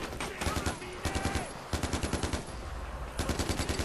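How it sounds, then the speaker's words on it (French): Automatic gunfire in the video game Far Cry 4: loud, rapid machine-gun bursts repeat in quick volleys with short gaps between them. "je te tire dessus"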